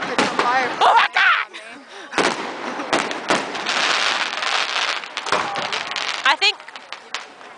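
Fourth of July fireworks in Eastport burst with repeated sharp cracks and booms, loud and close, while several people talk and exclaim throughout.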